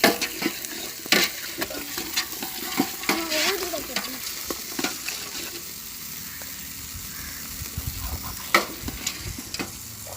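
Tomatoes frying and being stirred in a pan for vegetable biryani, a continuous close sizzle with intermittent scraping stir strokes, no talking.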